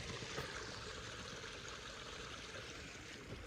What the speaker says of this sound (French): La petite rivière et tout.